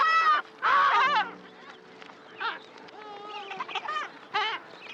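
Emperor penguins call out at a crowded Antarctic breeding colony as mothers return to find mates and chicks, loud trumpeting, warbling bursts repeating over a background of many distant birds.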